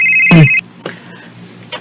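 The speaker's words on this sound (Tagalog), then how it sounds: "Uy, ang akong phone." A mobile phone ringtone gives a short, loud, bright electronic chirp and cuts off, followed by faint rustling.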